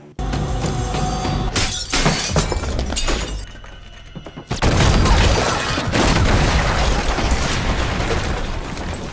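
A loud blast with glass shattering, followed by a long crashing, crackling wash of debris and breaking sounds that fills the scene.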